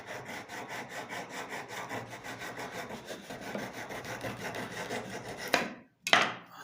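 Wood or MDF is cut by hand with a knife instead of a power saw, making a quiet, regular back-and-forth rasping scrape up close, ending in a couple of sharper snaps.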